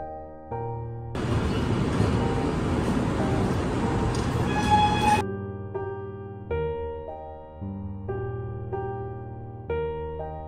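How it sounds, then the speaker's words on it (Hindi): A train pulling into a railway station in the evening, with a broad, steady rumble for several seconds that gives way to sustained tonal notes rising and falling in pitch. "तो फाइनली ट्रेन भी आ गई।"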